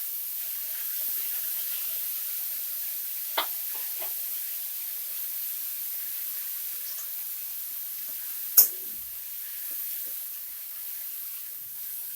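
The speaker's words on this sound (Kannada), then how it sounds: "ಚೆನ್ನಾಗಿ ಫ್ರೈ ಮಾಡ್ಕೊಳ್ಳಿ 5 ನಿಮಿಷ ತುಪ್ಪದಲ್ಲೇ." Grated carrot fries in ghee with a faint, steady sizzling hiss, broken by a couple of sharp clicks from stirring, quiet and continuous with no talk.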